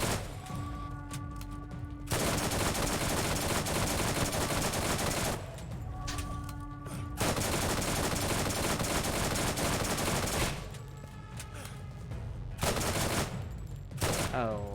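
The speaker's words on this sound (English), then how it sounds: "Or I can just remember how good my SMG is." An SMG fires in the shooter game Borderlands, unleashing long, dense bursts of rapid gunfire. The bursts are separated by brief pauses and are loud and close.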